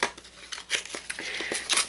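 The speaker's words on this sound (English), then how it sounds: "here are the Judykin scissors that I spoke about for detail" Judykin detail scissors are handled up close, giving short metallic clicks and snips in a quick, irregular series in a quiet room.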